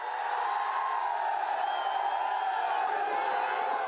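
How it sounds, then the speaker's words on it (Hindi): A huge crowd gathers for the Bharat Jodo Yatra march in Dausa, producing a steady, dense roar of many voices with scattered whoops and cheers that holds at an even level throughout. "भारत जोड़ो यात्रा का 100वां दिन, दौसा में जबरदस्त भीड़।"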